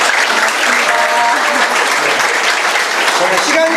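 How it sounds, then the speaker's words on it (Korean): An audience at a lecture event applauds with dense, sustained clapping throughout, loud and close, with faint voices mixed in under the claps. "박수 부탁드리고요"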